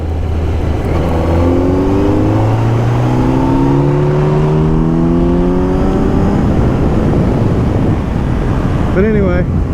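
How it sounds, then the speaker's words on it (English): A 2023 Kawasaki Z900 motorcycle accelerating through the gears, engine rising and dropping in repeated sweeps under heavy wind rush, with someone speaking over it. "a lot of people just like the ASMR riding motorcycle type sounds"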